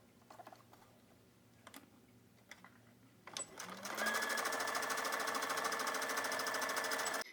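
A small sewing machine stitching fabric pieces for a doll's shoe: a few soft clicks and handling noises, then a steady, fast, close whirring run of stitching that holds for several seconds before stopping.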